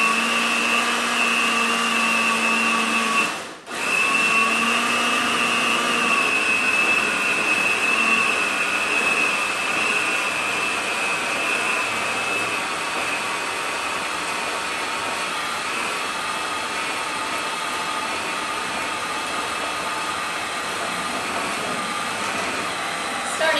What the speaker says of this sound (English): our food processor is locked and ready to go